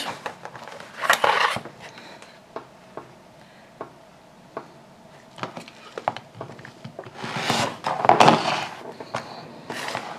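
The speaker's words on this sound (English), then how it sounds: "So I just line up the ruler on those marks and slice down." A blade slices gusset pieces of handbag fabric along a ruler, making scratchy cutting strokes in two louder bursts separated by light taps and clicks of the ruler and tools being handled.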